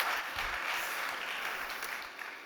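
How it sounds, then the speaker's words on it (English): Faint, distant applause from an audience at a startup competition event, a soft continuous patter that slowly fades out. "big applause to Javier."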